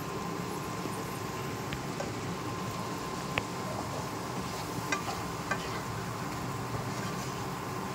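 Masala spice paste sizzling steadily in a pan with watery ground spices added, a dense continuous crackle at close range with a few small pops, no talking.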